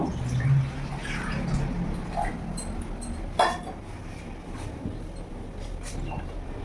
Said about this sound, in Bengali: এখানে আমি কড়াই বসিয়ে নিয়েছি জল দিয়ে দেবো